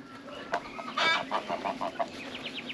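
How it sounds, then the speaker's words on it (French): Geese and other poultry in a farmyard henhouse, a burst of clucking and honking calls at close range, with several short rhythmic squawks in quick succession. "Là, j'ai mes oies."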